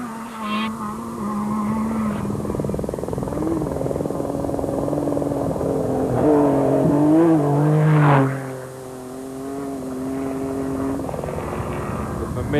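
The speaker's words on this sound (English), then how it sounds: "The familiar flat exhaust note to many of Mitsubishi's rally raid cars" A Mitsubishi Pajero rally raid car at the 2001 Dakar Rally gives its flat exhaust note, a sustained loud engine drone that climbs and peaks before falling away as it passes.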